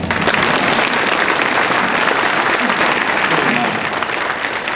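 Steady, dense clapping from a congregation at a Finnish church service in the Joutsa sports hall, loud and continuous throughout with no pause, the hall's echo blending the hands into a wide wash of applause.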